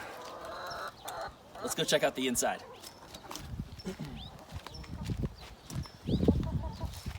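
Chickens cluck and squawk intermittently nearby in a coop while a person speaks, with scattered rustling and handling noises between calls.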